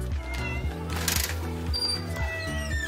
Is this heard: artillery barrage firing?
no